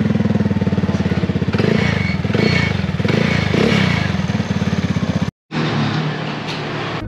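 Motorcycle engine idling through a worn aftermarket exhaust pipe, a loud, rapid, steady putter with rattly raspy texture, briefly cutting out near the end before resuming close by.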